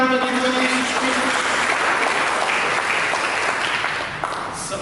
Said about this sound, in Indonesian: Mari kita berikan tepuk tangan bagi Tuhan Yesus Kristus.